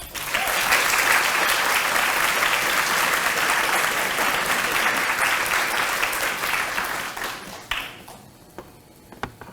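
Warm audience applause at a welcome and pinning ceremony greets a speaker stepping to the podium, sustained and steady for about seven seconds before tapering off into scattered claps.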